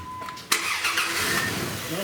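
A Dodge Dakota pickup engine cranks briefly and catches, settling into a steady running sound, heard close up for about two seconds.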